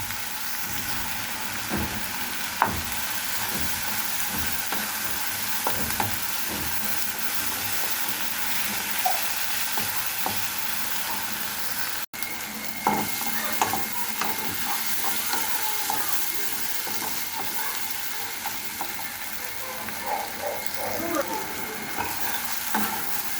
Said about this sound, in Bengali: পেঁয়াজটা আমার ভাজা হয়ে গিয়েছে